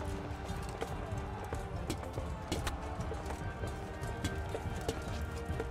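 Horse hooves clip-clopping in the medieval video game Kingdom Come: Deliverance, a steady rhythmic trot under a continuous ambient bed of game sound, moderately close and even.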